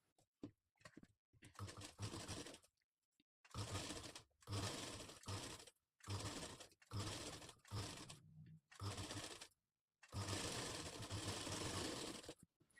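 A sewing machine stitches blouse pieces together in repeated bursts of fast, steady whirring, starting and stopping several times, close and clear with no talk.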